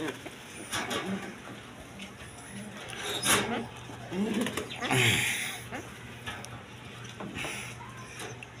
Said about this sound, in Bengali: চঞ্চল কবুতর